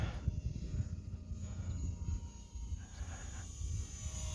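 An Eachine T-28 RC model airplane flies in beginner mode, its small electric propeller buzzing steadily at moderate distance, with a faint whirring hum that rises and falls slightly as it passes through the air.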